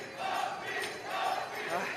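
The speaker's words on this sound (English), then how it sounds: "And the crowd is happy as well as the players" Swiss fans in the stands cheer a 7-6 curling win over Russia, a steady wash of crowd noise and shouting held at an even level throughout, heard from a distance.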